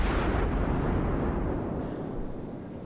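Naval gunfire from the cruiser Cleveland in World of Warships: a deep, loud booming blast that rolls and fades slowly over about three seconds, with no voices over it.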